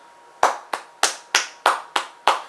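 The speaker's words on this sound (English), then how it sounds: "That's me clapping." Seven sharp, close hand claps at a slow, slightly uneven pace, each one crisp and distinct against near silence.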